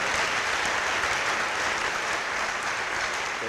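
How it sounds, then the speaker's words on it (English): Audience at a university public lecture applauds steadily and loudly to welcome a paramount chief and his entourage, a dense sustained clapping that fills the room with no break. "with a resounding round of applause, I introduce Neyi Gati the seventh with his entourage."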